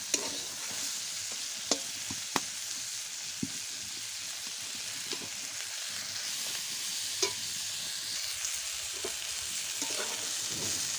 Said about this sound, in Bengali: এদিকে আমার পটলগুলো হালকা হালকা ভাজা হয়ে এসেছে। আর কিছু সময় ভাজা করব